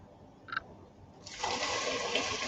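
Roughly blended cashew soup mixture pours into a pot with a sudden, continuous loud gush of liquid, preceded by a brief knock.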